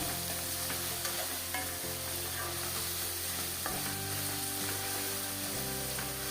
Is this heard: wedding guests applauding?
no